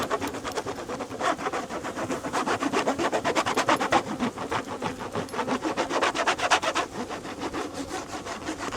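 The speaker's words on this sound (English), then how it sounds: "use some wax that we've already rendered and just literally scrape it on there" Rendered beeswax scraped onto plastic comb foundation in a beehive, a steady rhythmic rasping that repeats in quick close strokes for several seconds, fairly loud and near with no talking.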